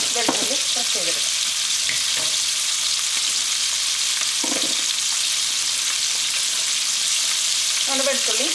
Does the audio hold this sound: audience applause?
no